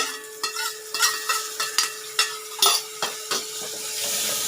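Two small chopped tomatoes for masala kanji sauté in a pan: a light sizzle sits beneath a string of sharp spoon-on-pan scrapes and clinks in an uneven rhythm.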